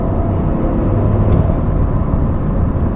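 Engine of a Toyota GR Corolla with all-wheel drive, heard from inside while driving: a steady, loud low-pitched drone with a faint whine, with no clear rise or fall in revs.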